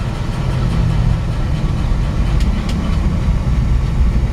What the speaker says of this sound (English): There's a lot of road noise inside